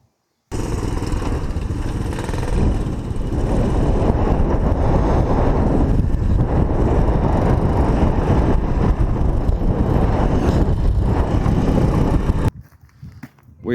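A Honda CT110 postie motorcycle rides home along the road after a wet run, its small engine droning steadily under heavy wind buffeting on the microphone, then cutting off near the end.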